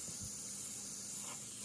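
Airbrush spraying paint onto a chrome yellow Mustang, a faint continuous airy hiss that runs steadily throughout, with no talk.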